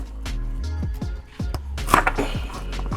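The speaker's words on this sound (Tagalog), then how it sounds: "Slice muna natin yung onion." An onion sliced with its skin on using a kitchen knife on a board, giving a run of sharp, close chopping taps at an uneven quick rhythm, with no talk over it.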